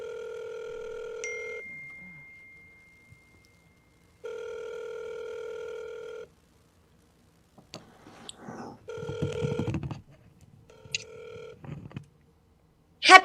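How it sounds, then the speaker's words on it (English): A telephone rings while calling a nursing home: two long steady ringback tones, then clicks, a short burst of tones and a voice answering near the end. "So let's call the Happy Daisy nursing home and see what exactly is going on over here."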